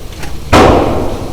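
A Lancer magazine is seated into a POF Rogue pistol, giving a single sharp, loud click-thud, close up, followed by a short fading ring.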